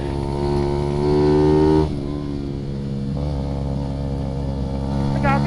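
A motorcycle engine rumbles steadily up close, revving higher then dropping back to a loud idle, with a faint voice under it.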